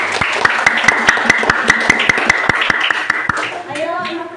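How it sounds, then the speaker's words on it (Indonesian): Children in a classroom clapping hands together in a quick, rhythmic series of sharp claps, with voices overlapping near the end. "Tepuk tangan ya."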